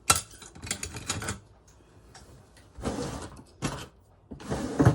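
Several bursts of crisp, rasping snips from fabric scissors that are playing up, cutting fabric close by, separated by brief quiet pauses.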